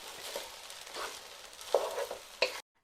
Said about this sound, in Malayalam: റൈസ് എല്ലാം കൂടി ഒന്ന് മിക്സ് ചെയ്തെടുക്കണം.